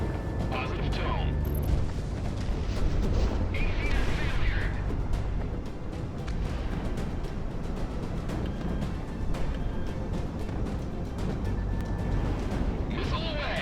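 A missile launch in the Project Wingman flight combat video game, heard as a loud, sustained roaring rush with booming bursts layered over continuous jet engine noise, with a voice speaking over it.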